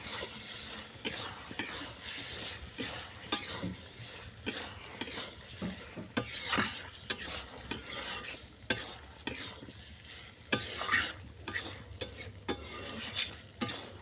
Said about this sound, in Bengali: আমি নেড়ে ছেড়ে শুকনো করে নিচ্ছি